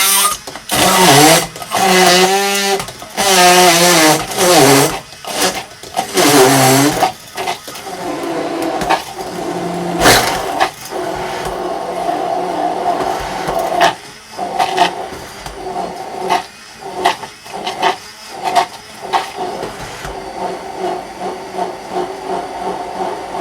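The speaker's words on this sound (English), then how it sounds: "So now let's blend this stuff" A blender purees peaches for a Bellini in bursts, loud whirring pulses that rise and drop, stop and restart, then run into a steadier grinding hum.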